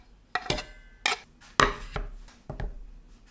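A knife chopping garlic on a cutting board in about six separate sharp knocks spaced irregularly, close and crisp against a quiet background.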